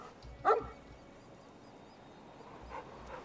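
A dog in the game Fallout: New Vegas gives one short bark followed by a softer second yip, with faint whimpering later, set against quiet game ambience.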